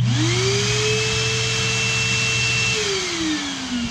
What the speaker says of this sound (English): So this is a regular vacuum cleaner.